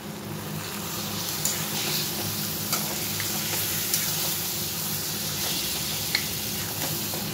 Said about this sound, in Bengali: এইবারে আমি মাংসগুলো সব ছেড়ে দেবো।